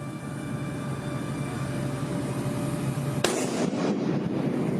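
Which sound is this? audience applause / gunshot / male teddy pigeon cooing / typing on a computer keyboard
gunshot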